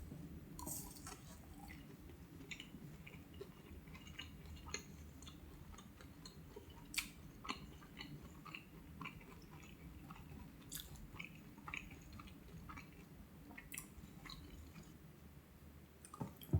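Someone chews a mouthful of Pizza Hut fried chicken with thick breading close to the mic, a continuous soft run of wet squishing and crunching with occasional sharper clicks over about sixteen seconds, with no talking.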